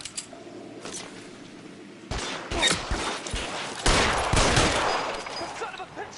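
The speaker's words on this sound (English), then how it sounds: "The son of a bitch shot me!" Gunfire in the L.A. Noire video game: a burst of repeated shots crackling in clusters, growing louder and denser in the second half, close and sharp over a busy background.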